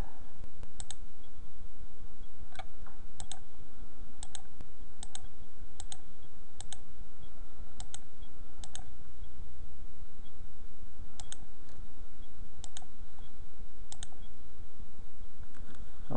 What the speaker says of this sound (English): So I'll click each of the tracks.